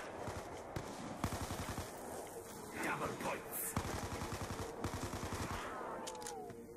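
Rapid bursts of MP5 submachine gun fire in Black Ops 2 Zombies, heard as repeated sharp volleys of steady automatic shots at moderate loudness, with faint game sounds in the background.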